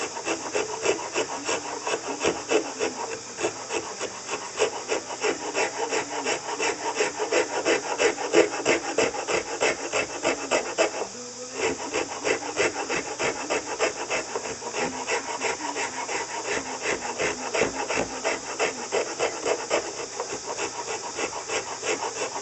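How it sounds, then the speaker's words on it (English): A wooden ukulele neck being sanded by hand with sandpaper, a steady rhythmic rasping of quick back-and-forth strokes, loud and close, with one brief pause midway. "I'll hit that with sandpaper"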